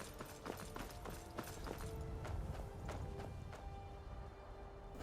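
Horse hooves clop in Skyrim survival mode as a run of sharp, uneven strikes, fairly close, over a busy game background with a faint low rumble.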